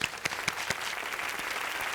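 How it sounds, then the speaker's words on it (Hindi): An audience applauds for four poets at a comedy show, a brief burst of crowd clapping with a few sharp claps standing out at the start and then settling into a steady patter. "हमारे चारों कवि खातिर एक जोरदार ताली बजा दी लोग"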